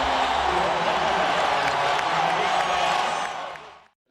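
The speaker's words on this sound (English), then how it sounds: "Crowd fired up here in Los Angeles." A Los Angeles arena crowd at a Celtics versus Lakers basketball game roars and cheers in a dense, loud wash of voices that holds steady for a few seconds, then cuts off abruptly.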